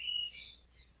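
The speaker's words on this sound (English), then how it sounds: "I can tell you why you're hearing birds. There's about 6 of them upstairs." Several small birds kept upstairs in a house give a few quiet, high chirps and tweets in a short burst, faint and slightly distant within an indoor room.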